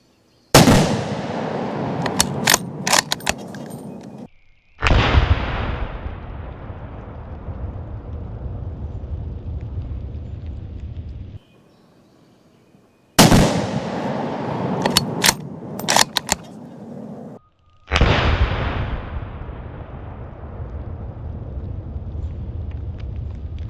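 Outdoor shots from a Taurus Expedition bolt-action rifle in .308, four sharp loud cracks each followed by long rolling echoes, paired close together with metallic bolt clatter between them.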